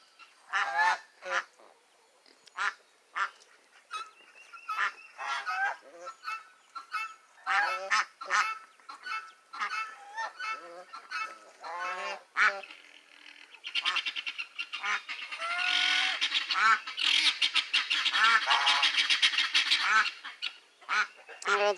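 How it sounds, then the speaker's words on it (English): Guinea fowl raise loud alarm calls in a barnyard, a dense run of harsh repeated honking cries that builds into a frantic overlapping chorus toward the end, close and without talk. "they perked their little heads up when they heard those guineas cutting up"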